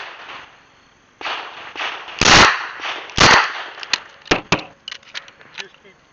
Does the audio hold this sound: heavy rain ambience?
no